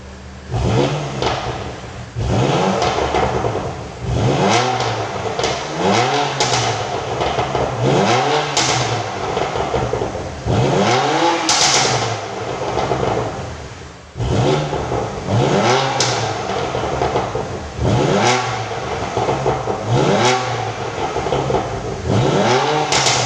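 BMW M2 Competition and M2 CS sports car engines revving hard, with repeated loud throttle blips rising and falling in quick succession, close and dominant throughout with no talk.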